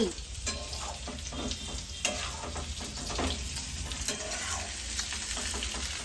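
Stuffed bitter gourd and potatoes sizzle and crackle in hot tempering oil while a spoon stirs and scrapes the pan in irregular strokes.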